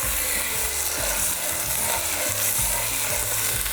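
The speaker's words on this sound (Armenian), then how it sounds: "Եվ մսակտորը բոլոր կողմերից տապակում ենք։" A piece of beef frying in a few drops of olive and sunflower oil blend in a pot, giving a dense, steady crackling sizzle, close and continuous with no talk.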